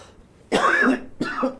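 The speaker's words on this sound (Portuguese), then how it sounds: "Tô tossindo demais, cara." A man coughs twice in quick succession, close and fairly loud, the first a longer rough hacking cough and the second shorter, with a throat-clearing quality and no talk over it.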